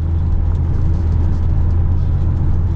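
A 1996 BMW 323 cruising along, its engine a steady loud low rumble and whir heard from inside the car, with no talk over it.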